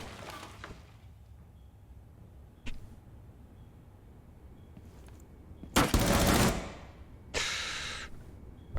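Gunfire in Rainbow Six Siege, with a few sharp isolated shots followed by two loud bursts of rapid fire and shattering near the end, over quiet ambient game noise.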